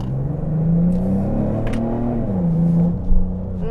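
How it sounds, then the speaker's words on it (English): A 2022 Genesis GV70 3.5T SUV accelerates in sport mode, heard from inside the cabin as a steady engine drone whose pitch climbs, dips and climbs again, with no talking. "So you get that little kick with the sports mode when you're accelerating."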